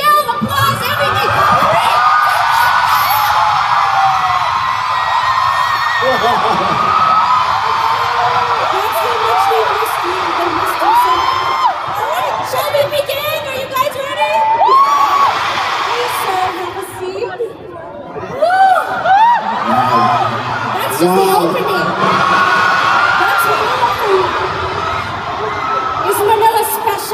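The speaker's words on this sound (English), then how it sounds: "Let's give him our best standing ovation, yell, applause, everything." A concert crowd at a Bloom show in Manila cheers, screams and chatters loudly and without a break, with whoops and shouts rising and falling across the whole stretch.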